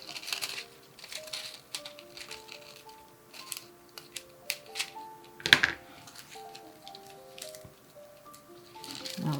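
Sticky scissors snip off a piece of material at close range, making soft, quiet clicks and crinkles with one sharper snip partway through.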